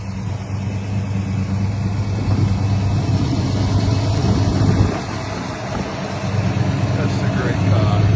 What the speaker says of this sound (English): Sounds like we got a little belt noise